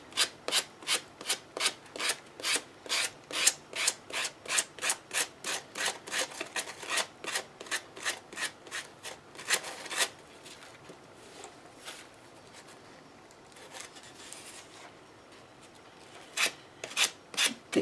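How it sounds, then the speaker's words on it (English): A wooden sign is sanded by hand with a sanding block in quick rhythmic back-and-forth strokes, pauses briefly, then resumes with a few more rasping passes. "you want to do this all over"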